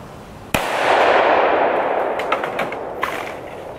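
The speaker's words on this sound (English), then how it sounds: "I shot one of the support arms for my Caldwell Chronograph" A gunshot hits the support arm of a Caldwell chronograph, giving one sharp, loud crack followed by a long ringing, noisy decay and a few faint clicks afterward.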